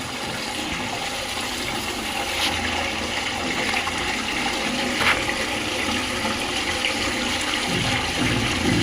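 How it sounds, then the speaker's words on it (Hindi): A newly installed Indian-style Odisha pan toilet flushing, a steady, loud rush of water pouring through the bowl for about nine seconds, close by and with no talking. "अब मैं फ्लश करके दिखाता हूँ, लीक नहीं कर रहा है मेरा।"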